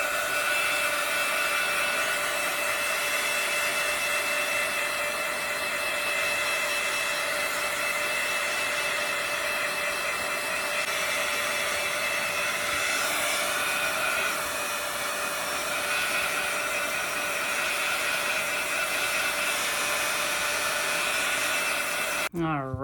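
A hair dryer blows continuously to dry paint on napkin art, a loud, steady, even whine holding unchanged for the whole stretch, alone without talk.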